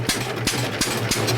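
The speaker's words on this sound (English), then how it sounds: "Now this is the first engine I ever bought and restored." An old restored engine, the first one its owner ever bought and brought back to life, chugs steadily up close, its loud regular beats coming about three per second over a low droning hum.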